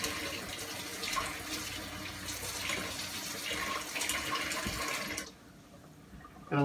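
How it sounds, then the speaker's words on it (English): Tap water runs steadily into a kitchen sink as a continuous broadband hiss for about five seconds, then cuts off abruptly, leaving near quiet before a brief bump at the end. "as you hear, I have my water running in the background."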